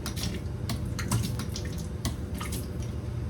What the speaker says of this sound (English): we're going to awkwardly try to pour some water through